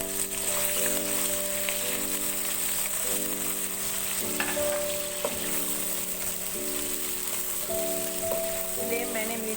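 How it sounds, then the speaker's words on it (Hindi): Onions sizzling in hot oil in a pan over a medium flame, a constant close frying hiss with a few light clinks and stirring touches, no one speaking. "ऑयल हमारा गर्म हो जाएगा तो हम इसमें प्याज शामिल करेंगे।"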